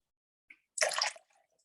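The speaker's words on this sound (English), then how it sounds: "as I pour this libation" Liquid poured during a quiet libation ritual: a single short splash lasting under half a second, preceded by a faint drip, then a few soft trailing drops, close and fairly quiet, with no talking.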